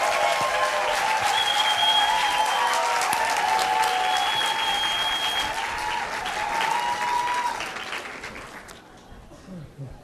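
Dense audience applause fills a church hall, steady for several seconds before thinning and fading out near the end.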